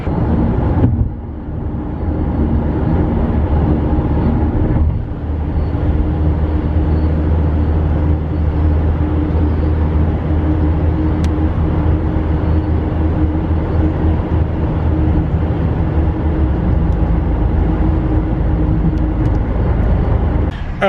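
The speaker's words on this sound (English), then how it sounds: "Anyway, gonna keep driving." A car crawling in slow, heavy traffic on the Belt Parkway in New York, giving a steady low road and engine rumble that continues unbroken throughout with little variation.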